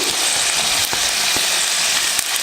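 Carrots and beans fry in a pan for vegetable sabji, a loud, close, continuous sizzle broken by a few sharp clicks of a spoon stirring.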